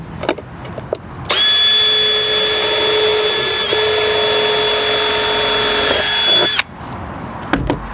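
A power drill bores through a plastic plant container, whirring steadily for about five seconds at a constant high pitch, starting and stopping abruptly, close and loud.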